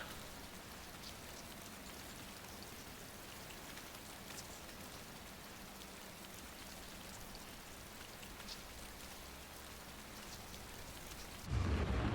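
Steady rain falls in the video game Death Stranding, a continuous even hiss of drops on surfaces with no talk, ending in a brief louder low rumble.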